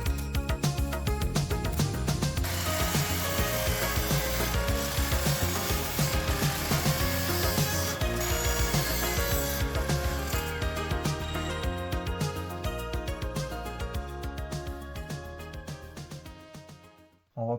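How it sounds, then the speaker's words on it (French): Reclaimed wood being cut at an angle with a power saw while building a stool, a loud continuous buzzing rasp that gradually fades out toward the end, followed by a short burst of noise. "Il va falloir que je coupe un angle ici pour que ça fitte."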